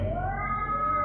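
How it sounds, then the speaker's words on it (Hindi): Two cats fight loudly, giving a sustained, wavering yowl that rises in pitch, close and loud for about a second. "बीच रात हमें बहुत जोर से 2 बिल्लियों के लड़ने की आवाज आई।"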